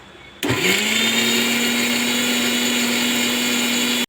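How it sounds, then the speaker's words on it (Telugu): A mixer grinder blending peanut chutney with water starts abruptly and runs as a loud, steady motor whine that continues alone to the end. "వాటర్ పోసుకొని మిక్సీ వేసుకుందాం మెత్తగా"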